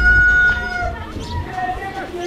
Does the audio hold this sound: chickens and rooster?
yes